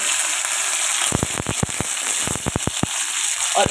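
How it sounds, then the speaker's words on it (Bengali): Paneer pieces frying a few at a time in hot oil give a steady close sizzle, broken by a rapid run of sharp pops and spits in two clustered bursts. "পনির কিন্তু সবসময় অল্প অল্প করে ভাজতে হয়।"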